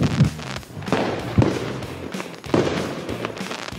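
Fireworks salutes being launched and bursting: repeated booms and crackling explosions, dense and rolling, fairly loud and continuous, with no voices over them.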